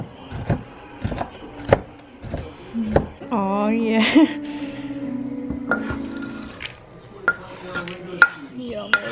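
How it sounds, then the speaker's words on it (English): Walnuts are chopped with a knife in a home kitchen while making banana bread, giving a series of sharp, irregular knocks on a board, with brief talk in between. "Chopping walnuts."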